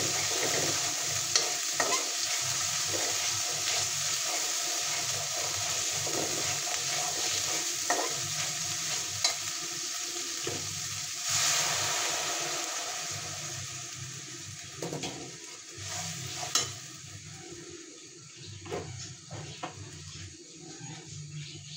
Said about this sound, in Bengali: মার জন্য আবার ডিম ভাজতে হবে